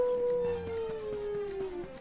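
Wolf, a character in the video game Super Smash Bros, performs his howl taunt: one long, sustained, slightly falling wolf howl that stays loud and clear for the whole stretch.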